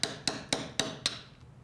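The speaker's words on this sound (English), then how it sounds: "So first I'll define the form of the figure with my chisels." Chisels striking a stone sculpture, five sharp evenly spaced taps about a quarter second apart, close and crisp, ringing briefly before fading into quiet.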